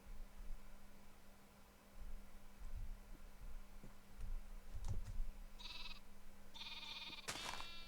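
A sheep bleats a few times in a castle-defense video game, fairly quiet over a low steady hum and faint clicks, with the bleats arriving in short bursts near the end.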